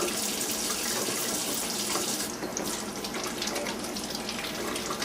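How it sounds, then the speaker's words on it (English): Vegetables are washed under a running kitchen tap while preparing nachos, with water pouring in a steady, continuous, close rush that changes slightly in tone partway through. "So we're going to wash these vegetables up."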